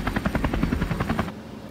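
A police helicopter flying overhead, its rotor thudding in a fast, loud, regular chop that cuts off abruptly near the end, with no talk.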